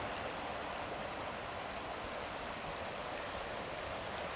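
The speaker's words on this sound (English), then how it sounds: "Right by the campsite, nice babbling brook." Babbling creek flowing through a meadow valley beside a campsite, a steady, close, broadband rush of running water that holds even and unbroken from start to finish with no voices.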